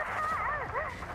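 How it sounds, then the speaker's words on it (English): A deafening howl comes through a communicator channel in Girls Frontline 2: Exilium, a short, wavering, dog-like whine and yelp that bends up and down in pitch, close and loud over a dense background. "The moment the line connects, a deafening howl can be heard through the channel."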